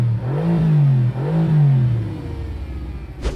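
Mercedes-AMG GT R Pro with a titanium exhaust back box and thin-wall steel exhaust revs twice in quick succession, each blip rising and falling loudly and close, before the engine settles and a brief sharp noise cuts in at the end.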